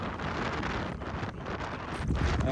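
Strong wind at Shamkir reservoir buffets the microphone in a continuous loud rumble with gusty surges and no voices.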